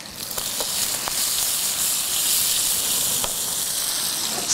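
Squid tentacles sizzling in a frying pan during an island catch-and-cook at Marion Bay, South Australia, a loud steady hiss with faint crackles and no talk.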